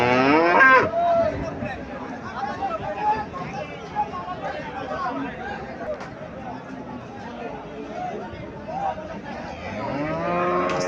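Sahiwal cow lowing at a cattle market in Comilla, a few drawn-out moos rising over a busy crowd of murmuring voices and background chatter, fairly close and clear.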